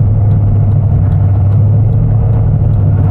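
LS3-swapped Toyota GT86 running rich and bucking at low RPM, a steady loud low engine rumble close by, uneven and throbbing without clear revs, no voices.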